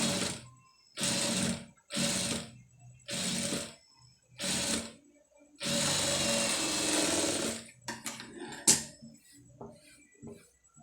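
Domestic sewing machine stitching a seam along piping on a blouse front neckline during tailoring, running in several short loud bursts with brief pauses between, then a longer continuous run followed by small clicks and handling noises.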